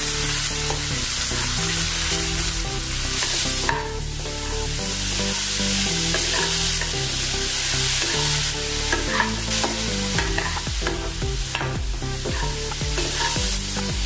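Continuous sizzling as a rice flour and poha breakfast mixture with boiled peas is stirred and scraped around a hot pan, with irregular clinks and scrapes of a utensil throughout.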